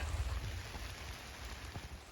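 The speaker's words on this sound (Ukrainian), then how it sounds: "бо починається дощ" Rain beginning to fall over an open field, a steady broadband patter and hiss with no voices, fairly close and even throughout.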